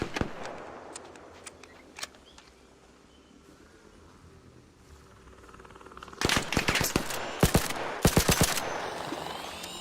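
Video game gunfire in ARC Raiders: faint scattered pops at first, then a loud, dense burst of rapid automatic shots in quick clusters over the last few seconds, with no talk.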